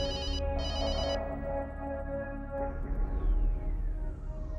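A telephone rings with a steady electronic ringtone, a short pause and then further tones, fairly quiet against a low background hum with no one talking.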